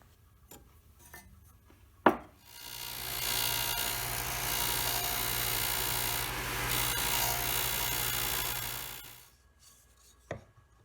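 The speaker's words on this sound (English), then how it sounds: "I need to sand the correct angle into the headstock overlay so it'll match up with the nut." Sanding a wooden guitar headstock overlay to an angle gives a steady, rough rasping hiss lasting about seven seconds, framed by sharp knocks of the wood before and after in a quiet room.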